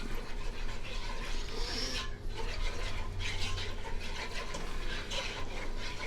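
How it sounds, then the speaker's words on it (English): Macaroni and cheese being stirred with a wooden whisk in a pot: continuous soft scraping and thick, wet sloshing at close range. The rhythm is steady and there is no talk. "I'm going to switch over to the wooden whisk if I can find it."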